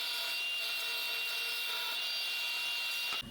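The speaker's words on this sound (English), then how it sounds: "Here I'm just cutting down some 3/4 inch plywood" Table saw ripping 3/4 inch plywood into strips, a steady, loud broadband whine that holds unbroken for about three seconds before the blade load drops off at the end. No voices.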